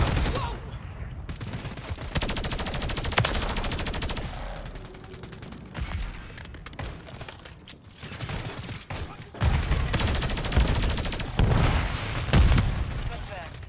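Sustained machine gun fire from a turret in a video game, long rattling automatic bursts that rise and fall in loudness, with a voice speaking intermittently over it.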